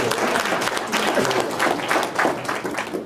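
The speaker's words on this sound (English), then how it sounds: "Give them a round of applause." Applause from a church congregation during a Sunday service, a steady patter of many hands at moderate, even loudness for about three seconds.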